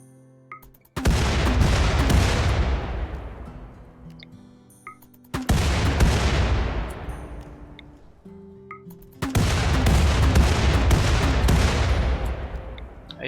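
Three heavy naval cannon blasts from RimWorld, each a sharp booming shot followed by a long rumbling decay, spaced about four seconds apart with no talking.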